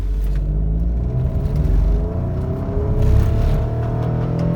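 3.7 liter V6 car with failing cam phasers pulling away and struggling to accelerate, a heavy low rumbling engine drone with a slowly rising strained pitch, loud and close, no talking.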